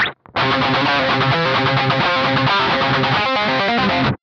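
Distorted electric guitar plays a riff with in-between notes, a loud, sustained, driving run of notes alone.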